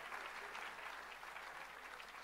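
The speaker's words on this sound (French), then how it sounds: "On peut applaudir bien fort ce collectif d'étudiants." Faint, distant audience applause for a student group at a launch evening event, an even, sustained wash of many hands clapping throughout.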